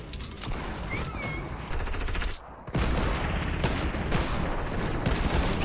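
Gunfire from a weapon in the video game Fortnite, in dense rapid bursts with a brief gap midway, loud and close over continuous game noise, with no talk.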